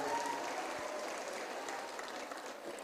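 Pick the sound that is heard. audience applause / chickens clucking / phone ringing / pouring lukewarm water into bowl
audience applause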